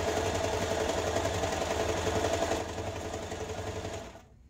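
A sewing machine runs fast and steady across a thick cap seam, a loud close motor whir with a buzzing stitch rhythm that slows slightly before cutting off near the end.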